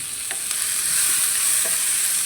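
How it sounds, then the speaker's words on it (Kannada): Tomato dropped into a pan of hot water with salt and oil gives a steady close sizzle and bubbling hiss, with a few soft stirring clicks and no talking. "ಈಗ ಟೊಮೆಟೊ ಹಾಕಿದೆ ನೋಡಿ"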